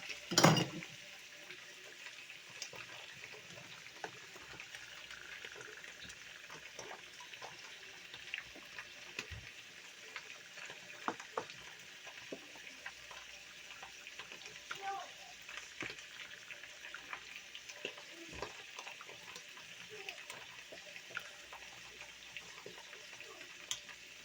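Chicken marsala with wine bubbles and sizzles in a pan while being stirred, a soft continuous frying hiss broken by scattered scrapes and clinks of the utensil against the pan.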